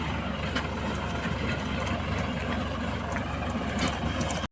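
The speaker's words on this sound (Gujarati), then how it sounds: "હાલો જો એ ટ્રેક્ટર આવતો રહ્યો સોનાલિકા" Sonalika tractor engine running steadily in a field where soil clods are being broken up, a loud, continuous, low droning rumble that holds unchanged for several seconds with no talk over it.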